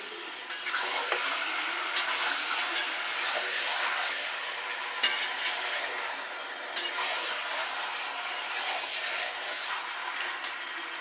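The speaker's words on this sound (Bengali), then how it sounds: "তো এইভাবে আমি আস্তে আস্তে কষিয়ে নেব" Mutton sautéing in oil in a pan, a steady close sizzle and frying crackle with occasional stirring scrapes and clinks running throughout, no voices.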